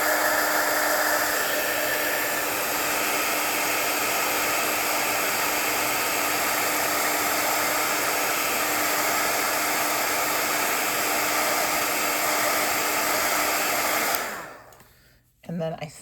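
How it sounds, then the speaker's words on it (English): A heat tool heat-setting embossing powder in card crafting, a steady loud whooshing blower hum running without a break for about fourteen seconds before switching off and winding down. "So let's heat set that."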